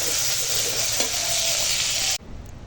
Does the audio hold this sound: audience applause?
no